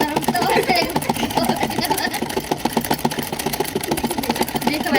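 A sewing machine stitches a patiala salwar, running in a steady, rapid mechanical whir throughout, with a person speaking over it.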